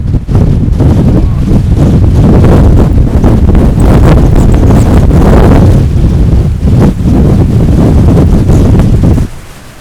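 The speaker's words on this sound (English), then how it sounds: "Listen to that powerful wind." Powerful wind buffets the microphone at Cabo Espichel on the Portuguese coast, a loud, continuous roaring rush with gusting surges, dropping off abruptly at the end.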